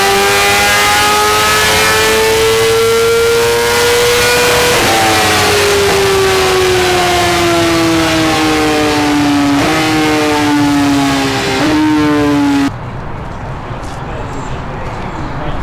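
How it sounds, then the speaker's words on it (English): A BMW S1000RR land speed racing motorcycle screams past at high speed, its loud engine note holding steady then dropping in pitch through several gear changes before fading abruptly, with wind rush underneath. "the objective is to go as fast as you can on a certain size and style of motorcycle"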